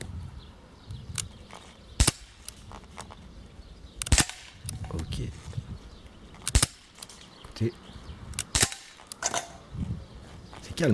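Sharp cracks from an outdoor plinking session, with a handful of loud shots spaced irregularly over steady background noise and some quiet talk between them.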